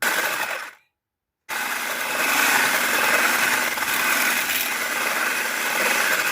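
An electric mixer whips egg whites as powdered sugar is added, making a steady, close whirring drone that cuts out briefly and then runs on continuously.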